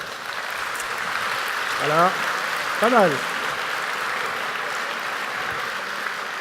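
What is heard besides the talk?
audience applause at a forum opening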